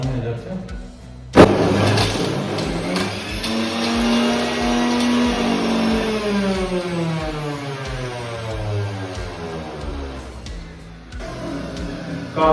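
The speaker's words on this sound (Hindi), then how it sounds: "आवाज जैसा कि आपने सुना एकदम से काफी हैवीली जो है इसने गाजर को जो है एकदम खत्म कर दिया" A Havells Stilus 500W juicer mixer grinder crushing carrots switches on with a sudden jolt, then whines and roars steadily at high speed, loud and close, with the motor pitch shifting as the load changes.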